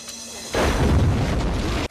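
A sudden deep boom erupts in a Battlefield Earth film scene, the blast that blows off a character's arm. It rumbles heavily, then fades within about a second and a half.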